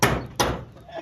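Two sharp hammer blows on a hard surface, about 0.4 s apart and close by, each fading quickly, followed by a faint softer knock.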